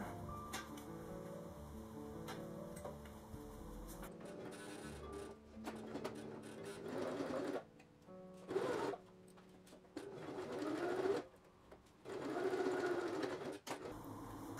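A sewing machine topstitches a fabric face mask in several close, steady whirring runs of rapid needle clatter, separated by brief pauses and handling sounds.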